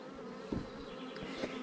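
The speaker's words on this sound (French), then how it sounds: "on va prélever les abeilles pour peupler nos nucléi" Honeybees buzzing at hive colonies while nucleus colonies are stocked, a steady dense hum from many bees close by, with a few brief louder swells as individual bees pass near.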